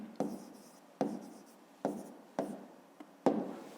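Pen writing out the answer to a fifth-grade math exercise on paper, six short scratchy strokes in an uneven rhythm, close and quiet with no talk.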